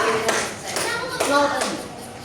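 Students clapping in a classroom after a class activity, a few short bursts of hand claps mixed with children's voices and a teacher talking over them.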